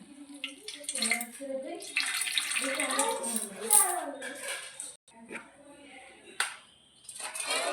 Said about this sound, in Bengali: এরকম কাপড়টাকে চেপে ধরলে সব জল ঝরে যাবে